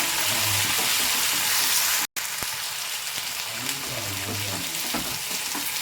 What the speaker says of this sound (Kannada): ಈಗ ಇದಕ್ಕೆ ಕ್ಯಾಪ್ಸಿಕಮ್ಮು ಟೊಮೊಟೊ ನೀಟಾಗಿ ಫ್ರೈ ಮಾಡ್ಕೊಳ್ಳಿ ಹೀಗೆ